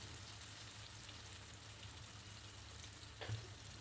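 Eggplant sautéing in a pan for a fish curry, a soft steady sizzle with a brief stir near the end, heard alone and fairly quiet.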